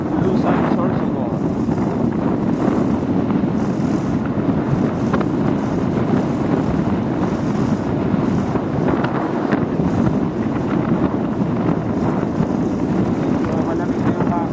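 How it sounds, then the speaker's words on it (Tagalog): Cold wind blows beside the Bulusan River in Sorsogon, Philippines, a constant loud rushing buffet against the microphone that fills the whole stretch with a dense, steady roar. "Malamig na yung hangin."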